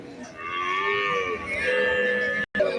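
Cattle at the Valliyoor cow market in Tirunelveli low in long, sustained moos that overlap near and far, loud and continuous, with a sudden brief break near the end.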